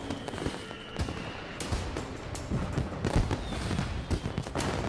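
Fireworks exploding in a rapid, continuous barrage of sharp bangs and crackles, moderately distant and steady throughout with no voices.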